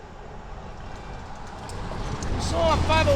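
A Long Island Rail Road train pulls into a station on the Port Jefferson Branch near Ronkonkoma during the morning rush, a rumbling approach that grows steadily louder over a few seconds and ends with high squealing brake or wheel tones.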